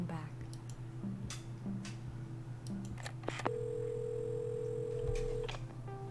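A telephone being dialed in a video game: a few short dial tones and key beeps followed by a long steady tone, over a constant low hum, with speech throughout.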